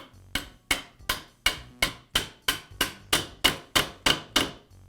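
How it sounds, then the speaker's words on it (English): A socket taps a DeWALT laminate trimmer's armature back into its lower bearing, giving about a dozen crisp metallic knocks at a steady, even rhythm, each sharp and close with a short ring-off. "I'll use a socket to tap the armature back into the lower bearing."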